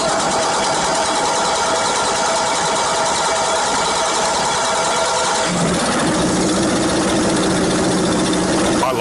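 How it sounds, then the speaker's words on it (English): An engine runs on a test stand in a dense, loud, continuous mechanical drone with a shift in pitch partway through, set in a busy industrial space. "another engine on the other side of the turntable is tested in parallel."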